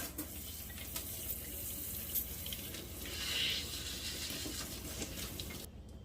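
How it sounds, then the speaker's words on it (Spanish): Soursop fruit is rinsed under a running kitchen tap, a steady close rush of water hitting the fruit and sink, with a brief louder splash midway before the flow cuts off near the end. "y la vamos a enjuagar"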